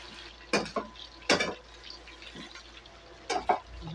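Chopped cabbage tumbling into a pot of leftover vegetables, a few distinct rustling drops and clatters at close range with quiet pauses between them.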